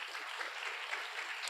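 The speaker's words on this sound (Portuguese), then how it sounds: "Uma salva de palmas, então" Audience applause after a business talk on commercial opportunities and prospects, a steady, dense clapping wash at moderate level, continuous and even throughout without voices on top.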